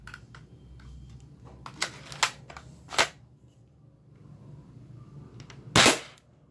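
Several sharp snapping shots from an airsoft spring sniper rifle (L96) ring out over a quiet background, hitting a plywood board, with a few lighter clicks between them and one louder, longer crack near the end.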